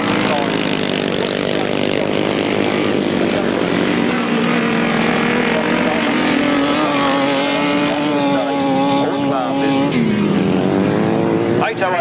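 Grasstrack racing motorcycles, one with a Godden engine half the size of its rival, scream past loud and continuous at a 1994 national pairs meeting, the engine note climbing, holding high and then dropping, under a commentator's voice.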